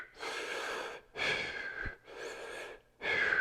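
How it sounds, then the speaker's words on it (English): Someone does sip breathing, drawing air in and out as if through a straw. Four long, hissing, close breaths follow one another in a slow, steady rhythm with no talk. "you want to do sip breathing or straw breathing"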